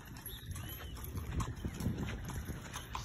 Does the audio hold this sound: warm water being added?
no